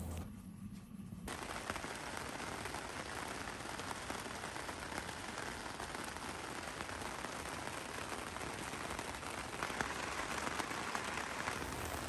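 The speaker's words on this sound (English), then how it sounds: "full-on rainstorm here, and it just was cold and wet" Rain falls on a 21-year-old pop-up camper at a Wisconsin campsite, a steady, fairly faint patter that stays even throughout, preceded by a brief quieter moment at the very start.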